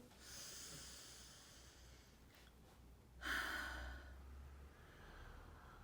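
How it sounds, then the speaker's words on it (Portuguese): A slow, deep breath drawn in during a calm breathing exercise, a soft airy inhale that swells midway and then eases off against quiet room noise. "Eu posso fazer uma respiração. Eu inspiro."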